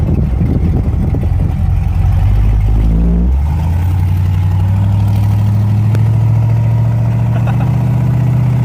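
A loud tractor engine rumbles steadily nearby, its deep drone shifting pitch as it revs and settles into a sustained heavy hum.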